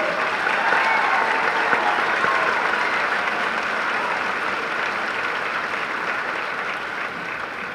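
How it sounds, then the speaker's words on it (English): An audience in a school gymnasium or hall claps for graduating students at a ceremony, a loud, sustained wash of applause that stays even and fades slightly toward the end, with faint voices mixed in. "Please join me in clapping for these students."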